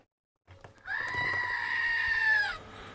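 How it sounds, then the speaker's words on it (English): A single drawn-out goat bleat, loud and fairly close, rising after a brief rustle and holding for over a second before cutting off. "Where's the goats?"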